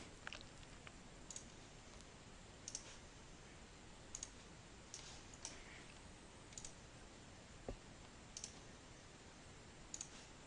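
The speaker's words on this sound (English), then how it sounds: "So I'm basically left-clicking, right-clicking," Sharp, quiet computer mouse clicks, left and right buttons, come in a loose irregular rhythm, roughly one to three clicks about every second or so, against a faint steady room hiss while building map tiles in MapTool software.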